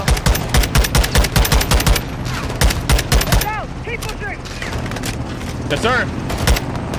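Gunfire in the Call of Duty: Modern Warfare 2 campaign, with rapid loud bursts of automatic shots in the first half, then sparser booms and reports, while a man briefly answers and game voices play.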